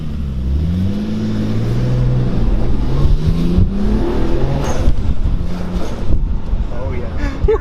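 R32 Nissan Skyline GT-R fitted with an HKS SSQV blow-off valve on a test drive, engine droning and rising in pitch through gears, with steady wind rush and people talking over it.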